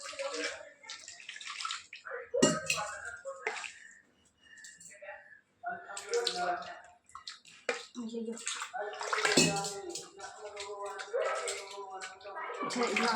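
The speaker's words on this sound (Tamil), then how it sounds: "இது வந்து கொஞ்சம் தண்ணி கூட ஊற்றிக்கலாம்" Water poured from a vessel into a cooking pot while making fish curry, splashing intermittently across the clip beneath near, steady talking.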